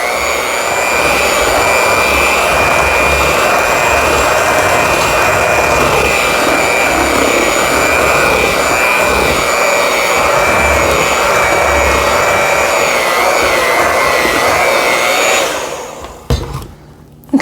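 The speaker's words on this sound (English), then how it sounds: "with the mixer" An electric mixer whirring steadily through zucchini bread batter with chocolate chips and orange, a loud continuous motor whine for about fifteen seconds before it cuts off with a few clunks.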